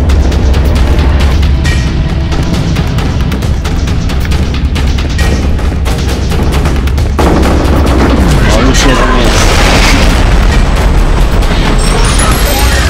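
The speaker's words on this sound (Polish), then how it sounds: "Obowiązkowa beczka musi być rozwalona." Rapid gunfire and a loud barrel explosion in the video game F.E.A.R. Perseus Mandate, a dense, continuous burst of shots and booms at full volume.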